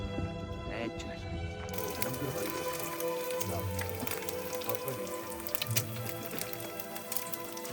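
Rain falls steadily on surfaces during a cycling trip in central Mongolia, a dense hiss with scattered drips and patters, while people talk intermittently over it.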